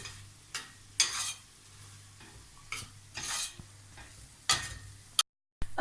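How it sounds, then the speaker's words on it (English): Mashed stuffing being mixed with milk by hand rather than a spatula, soft scraping and squelching strokes repeating every second or so in a quiet kitchen, close and fairly faint, with a short dropout near the end. "take a little milk and just mix it through with the milk"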